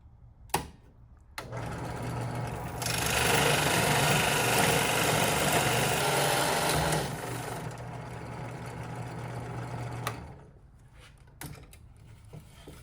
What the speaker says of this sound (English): let's go and get this baby sanded down, clean her up